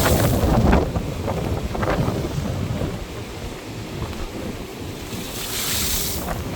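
Sea waves rolling onto a beach with strong wind buffeting the microphone, a continuous loud roar of surf swelling and easing, no voices.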